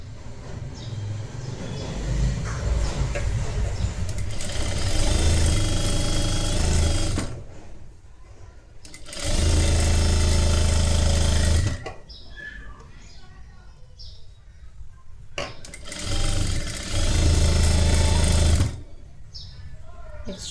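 Sewing machine stitching a royal blue lehenga saree fabric, whirring loudly in three sustained bursts separated by quieter pauses with handling noise, close to the mic.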